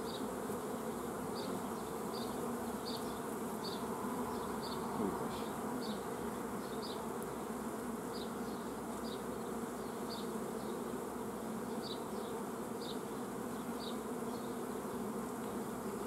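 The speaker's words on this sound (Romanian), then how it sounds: "Deci albina de acum intră pe aici, liniștit, nu-i problemă." Honeybees buzz in a steady, dense drone around a beehive entrance, with a constant hum and faint repeating high chirps from nearby insects, heard without talk.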